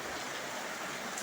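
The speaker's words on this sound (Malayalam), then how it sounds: "എൻ്റെ വീട്ടിൽ നിറയെ മഴ പെരും മഴ പെയ്തുകൊണ്ടൊക്കെയാണ്." Heavy rain pours steadily at a house, a dense, even hiss of falling water with no breaks over the short stretch, moderately loud and uninterrupted.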